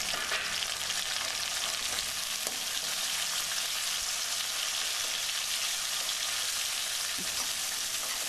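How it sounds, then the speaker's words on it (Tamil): Chopped tomatoes sauté in a hot pan for a village-style Malabar sardine fish curry, giving a steady, close sizzle and crackle that runs evenly throughout with faint stirring knocks and no talking. "நம்ம வெட்டி வச்சுருக்க தக்காளியை அதில் போட்டு வதக்கிக்கிறோம்"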